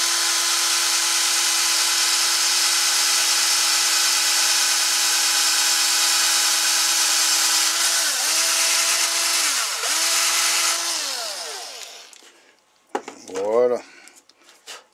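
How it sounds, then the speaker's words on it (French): A power drill whines loudly and steadily while boring a hole in a homemade fidget hand spinner, its pitch dipping briefly twice as the bit loads, before spinning down and ending in a few rattling clatters. "Allez, on va percer ça."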